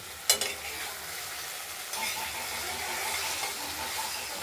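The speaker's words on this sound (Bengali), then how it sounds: "মশলাটা কষে এসেছে তেল তেল বেরিয়ে এসেছে" Spice paste being fried and stirred in oil in a pan for a freshwater prawn curry with potato and tomato, giving a steady close sizzle with scraping stir sounds and a sharp clatter near the start.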